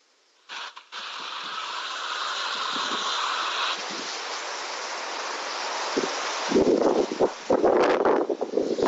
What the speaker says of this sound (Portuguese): os ventos aqui são muito fortes